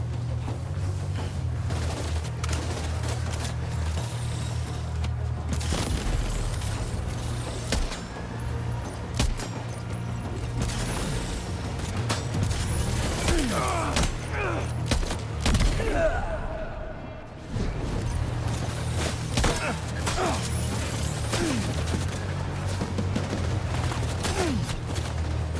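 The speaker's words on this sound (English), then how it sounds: "Here I go, shooting again." Sustained gunfire from the game Death Stranding 2, with repeated shots and booms over a steady low engine-like rumble throughout, loud and close, with brief lulls.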